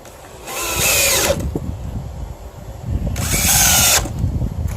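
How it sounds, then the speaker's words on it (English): Power drill drives self-piercing pan-head Phillips truss screws, 1 1/4 inch long, into wooden boards in two loud whirring bursts with a pause and faint clatter between them. "And then I'm going to drill these into the boards."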